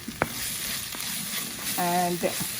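Dry potato sabzi seasoned with salt is stirred in a pan, giving a soft steady sizzle with a few scraping knocks of the spoon, plus a brief tonal beep partway through.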